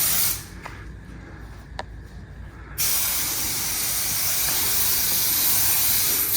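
Polytech 2300 non-silicone mold release agent sprayed from a can while making a rubber mold, heard as a short hiss, then a loud, steady continuous spray that runs to the end.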